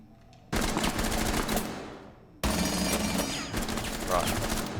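Automatic weapon fire in the PC video game Rainbow Six Siege, two sustained, dense bursts of rapid shots, loud and close, with a brief drop between them.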